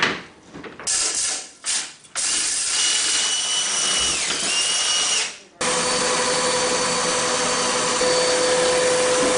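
A vacuum cleaner clears out a wood stove pipe, a loud, close, whining roar that cuts in and out a few times with rattling bursts, then runs steadily.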